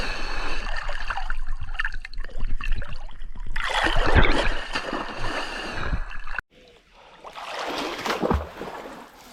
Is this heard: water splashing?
yes